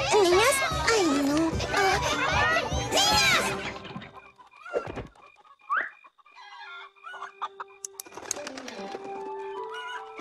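A voice calls out loudly at first, then scattered hen clucks and soft bird calls follow in quieter surroundings, in a My Little Pony cartoon.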